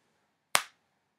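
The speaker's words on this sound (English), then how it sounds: "the act of snapping your fingers is called fillip" A single crisp finger snap, sharp and close, with a short fading tail in an otherwise quiet room.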